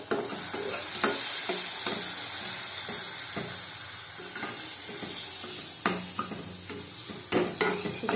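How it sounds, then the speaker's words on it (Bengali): Slit green chillies fry in hot oil with turmeric for a fish curry, a close, continuous sizzle broken by repeated spatula scrapes and taps against the pan. "কটা কাঁচা লঙ্কা দিয়ে দিলাম ফাটিয়ে"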